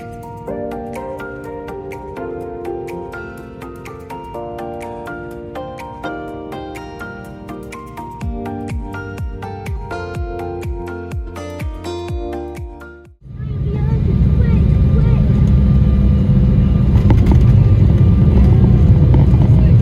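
KLM Cityhopper Embraer E175 jet landing at Amsterdam, beginning with music, then switching at about 13 seconds to a loud, steady cabin roar of the airliner on landing that continues unbroken to the end.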